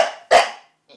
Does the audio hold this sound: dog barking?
yes